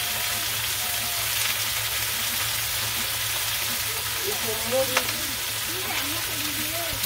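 Vegetables and fish fry in a kadai with a steady, close hiss and crackle of oil. A voice is heard briefly partway through.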